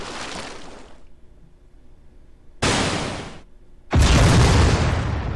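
Loud shell explosions in a naval warship video game: a burst of rumbling blast, a pause, then two more heavy booms in quick succession, the last sustained and very loud.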